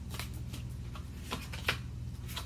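Tarot cards are shuffled close by in a few soft, papery riffling bursts and flicks, quiet and uneven, with no speech.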